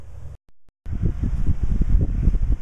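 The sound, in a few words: wind blowing outdoors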